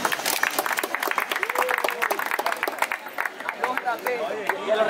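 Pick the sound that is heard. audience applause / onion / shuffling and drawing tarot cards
audience applause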